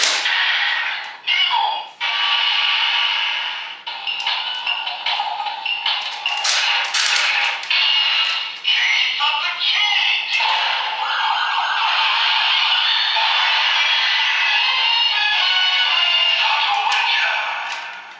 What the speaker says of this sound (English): all have the same generic transformation sound effects